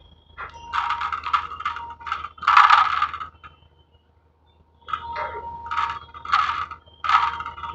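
A cushion printing machine starting up gives off bursts of close mechanical clicking and rattling, then a few seconds of near silence before more clattering bursts.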